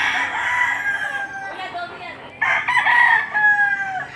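A yellow-legged rooster crows loudly and close by at a livestock auction market in Lipa City, Batangas, the call repeating over a few seconds, with clucking and a faint voice in the background.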